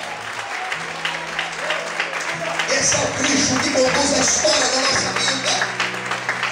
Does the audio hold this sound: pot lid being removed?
no